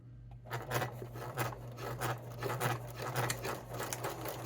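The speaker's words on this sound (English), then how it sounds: "And then I'm going to sew across it forward, backwards, and forwards again." A sewing machine stitching across a thick seam on a fabric Christmas stocking, running at a steady pace with a continuous low motor hum and a rapid, even needle patter, close and alone.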